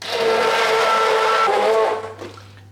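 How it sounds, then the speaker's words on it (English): A blender whirs loudly for about two seconds, mixing roasted vegetables, wine and chicken juices, then cuts off and spins down. "I've got a blender here, and I'll mix everything together first."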